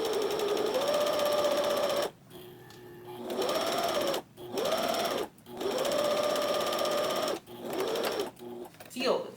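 A sewing machine stitches a quilted vest in steady whirring runs broken by short pauses, with the motor loud and close throughout.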